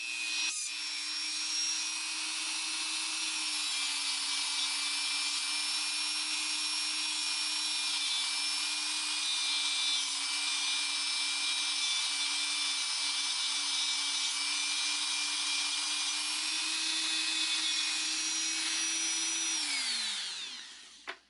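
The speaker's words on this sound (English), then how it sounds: "I can take my Dremel tool now, and I'm going to do this off camera, but I'm going to trim these down a little bit" A Dremel rotary tool trims a handmade 3-in-1 pendant, a loud steady high-pitched whine running continuously for about twenty seconds before spinning down at the end.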